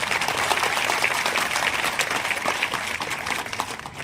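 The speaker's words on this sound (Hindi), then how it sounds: "तो आगे वाले बच्चों के लिए भी एक तालीम मैं बजवाना चाहूँगा जोरदार।" An audience of students claps loudly at an Ambedkar College awareness event, with brisk, dense, steady applause lasting the whole stretch, close and energetic.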